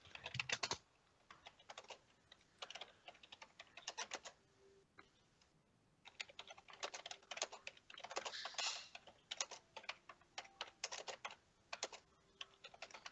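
Quiet, close computer keyboard typing comes in irregular bursts of rapid key clicks separated by short pauses, with no talking.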